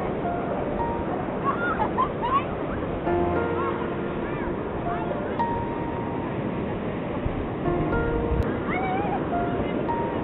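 Wind buffets the microphone over steady surf breaking on the shore at Nueva Atlantis beach, a constant rushing wash that lasts the whole stretch at moderate loudness.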